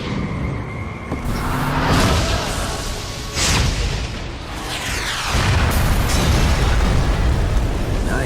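Heavy booming explosions in the Eat Lead shooter game, several loud blasts with rumbling tails and debris crackle, arriving in sequence over a dense, noisy background.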